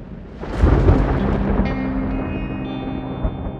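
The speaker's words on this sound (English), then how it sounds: "storm's coming." A thunderstorm with heavy rain, its thunder swelling into a loud rolling rumble that slowly fades under the constant hiss of the downpour, with no voices.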